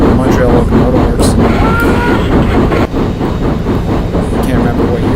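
A CP Royal Hudson 2860 steam locomotive in the Open Rails simulator running over Kicking Horse Pass near Banff, Alberta: a loud, continuous rumble and clatter of the moving train, with speech likely underneath.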